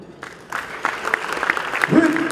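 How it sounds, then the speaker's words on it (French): Applause from a gala audience at a Francophonie Games partners' event, starting after a brief pause and building into steady clapping, with voices and stage sounds mixed in. "Marie-Christelle Dami, sous vos applaudissements"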